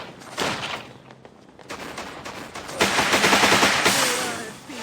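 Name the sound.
gunfire from shooting character Narancha in JoJo Last Survivor video game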